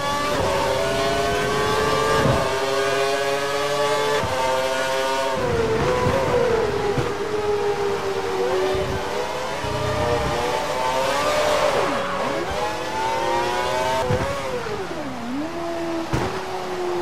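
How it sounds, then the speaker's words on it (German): Race cars in a racing video game run a rainy Canadian circuit, their engine whines rising and falling through gear changes and braking as cars pass close by, loud and continuous. "Du musst das Auto hinter dir vorbeilassen."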